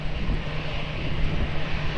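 Steady broad roar of airliner engines at Lisbon Airport, with a Boeing 777 rolling on the runway, heard from a distance as a continuous rumble without voices.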